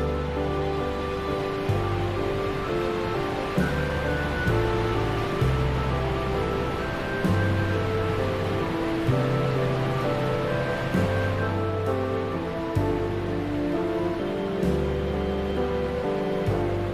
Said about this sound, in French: une énorme cascade de 200 et quelques mètres sur 3 étages sortent d'une grotte, c'est incroyable